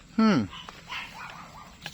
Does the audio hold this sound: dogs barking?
yes